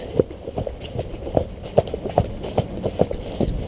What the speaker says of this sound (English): you have to just trot over the bits of branches